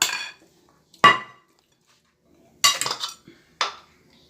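Semolina and flour being mixed in a bowl for baked makrout: a few sparse, sharp clinks and scrapes of a utensil against the bowl, separated by silence.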